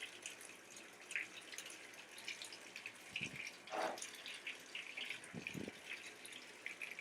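Water runs and splashes faintly from a device being cleaned in a bathroom, a soft steady trickle broken by a few brief louder gushes.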